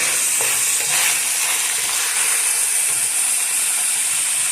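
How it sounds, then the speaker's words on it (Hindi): Yellow bell pepper stir-fried in a pan for Chinese-style dry chili chicken gives a loud, dense, continuous sizzle with scraping stirring strokes close by. "येलो बेल पेपर जो है वो हम इसमें डालेंगे। और इसको अच्छी तरह से फ्राई करेंगे।"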